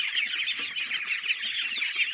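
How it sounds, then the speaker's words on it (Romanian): A dense chorus of high-pitched peeping and quacking from many ducklings, continuous and close, with no voices. "Ia uitați-vă, aici ce rățuște, ce frumusețe."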